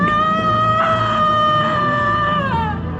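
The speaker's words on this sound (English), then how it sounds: "The woman's voice screamed." A woman screams in an English audio story, a loud, sustained high-pitched shriek with wavering pitch that lasts about three seconds and falls away at the end.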